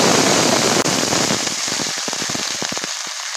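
Potatoes and cumin seeds hit hot oil while cooking a drumstick chorchori, giving a loud, dense sizzle that thins into rapid, irregular crackling pops close by.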